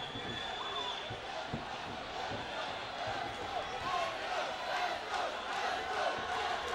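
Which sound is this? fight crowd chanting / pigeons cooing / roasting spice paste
fight crowd chanting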